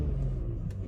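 BMW E46 engine, lowered project car, revving with a deep low rumble close by, a continuous throaty drone that rises slightly at the very end.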